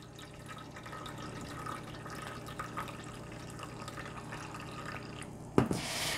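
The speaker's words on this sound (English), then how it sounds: "Now slowly, carefully, you're gonna add the water." Boiling water poured slowly into a pan as a water bath for a chocolate flan, a faint steady trickle and drip with a brief clatter near the end.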